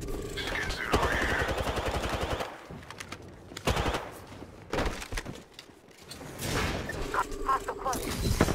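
Video game machine-gun fire in sustained rapid bursts with pauses between, loud and close, with faint whispered voices in between.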